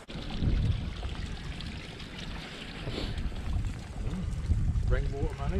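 Rainwater running through a drainage channel beside a hillside walking path in the Peak District, a steady wash of trickling flow with voices talking over it.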